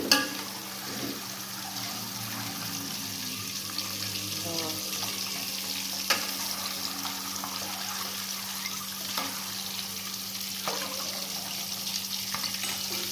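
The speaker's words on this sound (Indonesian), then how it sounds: "Saya telurnya digoreng dulu ya, pakai margarin, pakai minyak." Eggs fry in margarine and oil in a pan, a steady quiet sizzle with a low hum underneath and a few faint clinks.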